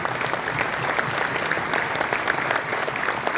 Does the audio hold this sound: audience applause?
yes